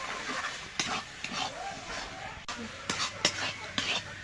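Bottle gourd and shrimp curry with rice flour and water is stirred in a pan, a spatula scraping and knocking in uneven strokes over a low simmering sizzle, with soft speech murmuring underneath.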